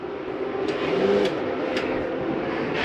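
RV furnace running inside a 2022 Jayco Jay Flight SLX 195RB travel trailer, a steady broadband blowing rumble with a few faint clicks, continuous and fairly close.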